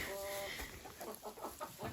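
Soft clucking of bantam chickens nearby, several short throaty calls in quick succession over a hissy background.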